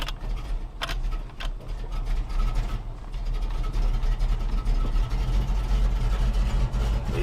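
A classic V12 Jaguar E-Type's engine runs steadily as the car is put in drive and pulls away, a low continuous rumble with a couple of sharp clicks early on, close and fairly loud.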